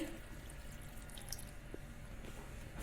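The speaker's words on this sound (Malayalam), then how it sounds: "ഇതാ ഫസ്റ്റ് പാൽ ഒഴിക്കുന്നുണ്ട് ഇതിലേക്ക്" Coconut milk, the thick first extract, poured into a pot of cooking tapioca, giving a faint, quiet trickle and a few soft drips in a hushed kitchen.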